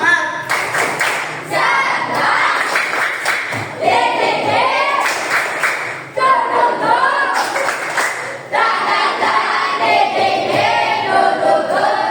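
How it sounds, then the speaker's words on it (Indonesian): Children in a classroom do a spirited clapping routine, bursts of brisk rhythmic hand claps repeating in quick sets, mixed with their lively chanting voices throughout. "Terus tepuk semangat."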